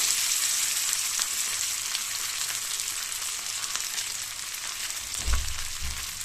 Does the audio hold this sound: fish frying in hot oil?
yes